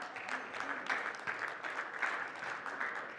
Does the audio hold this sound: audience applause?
yes